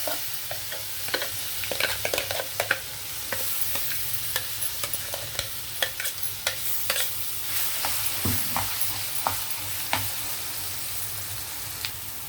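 Coconut chutney sizzling in hot oil after a tempering, with steady crackling fry noise and repeated sharp scraping and clinking of a spoon stirring the pan, close and continuous, no talking.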